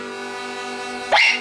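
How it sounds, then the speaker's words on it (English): A dog lets out a single short bark at the very end, breaking through a sustained harmonica tone that plays steadily before it. "He's barking a little bit."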